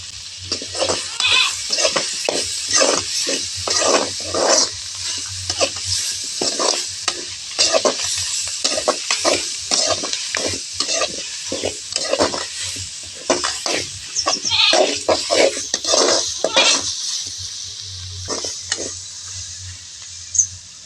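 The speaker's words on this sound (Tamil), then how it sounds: "வெங்காயம் தக்காளி மிளகாய் தேங்காய் எல்லாம் நல்லா வதங்கிட்டு" Onion, tomato, chili and coconut sautéed in a pan, with a rapid run of scraping stirring strokes over a steady background sizzle that pauses briefly near the end.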